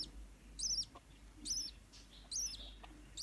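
Baby birds, three or four chicks in a nest at a bird farm, give repeated high, thin cheeping calls in short bursts roughly once a second, soft and close over a low background hum.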